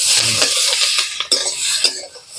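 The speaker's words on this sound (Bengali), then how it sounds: "বিনস, আলু, ক্যাপসিকাম এগুলো একসঙ্গে ভেজে নিই।" Beans, potatoes and capsicum are stir-fried in a pan with salt and turmeric, with loud, close scraping and clattering of a spatula against the pan over a light sizzle.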